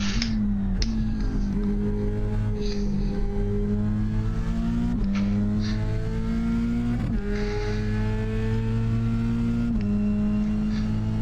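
An F3 race car engine drives on tarmac, heard from onboard as a loud, steady buzzing drone that climbs in pitch through the gears, with repeated drops at each upshift.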